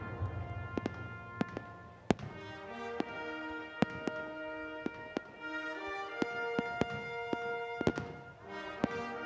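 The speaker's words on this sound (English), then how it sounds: "As the fireworks are lit off in the distance behind us" Twilight fireworks at a sports opening ceremony in Blaine, Minnesota pop and crack in irregular bursts at a distance, over sustained musical tones.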